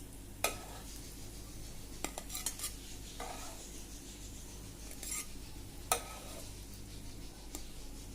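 Potato chop patties coated in egg and breadcrumbs fry quietly in a pan, giving a faint low sizzle broken by a few sharp clinks and scrapes of cutlery against the pan, and no voice is heard.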